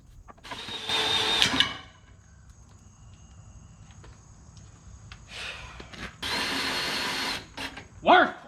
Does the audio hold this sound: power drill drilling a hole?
yes